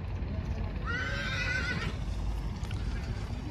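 A mare whinnies at a busy outdoor horse fair in Ganganagar, a single clear, near neigh lasting about a second, rising and wavering, over constant crowd murmur and low rumble.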